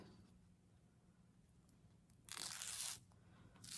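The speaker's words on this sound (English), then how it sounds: "what we're going to do is peel off our double-sided tape" Backing strip peeled off double-sided tape while making fabric straps: one short, crisp ripping burst after quiet handling noise, close and fairly soft.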